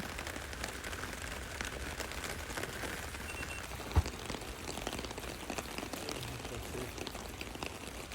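Heavy rain pours steadily onto a camper van parked overnight in Japan, a dense continuous patter close by, with one sharper knock partway through and no talking.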